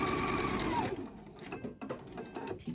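Sewing machine stitching a bralette with fold-over elastic, running in a steady loud whir for under a second before stopping, then faint handling noises.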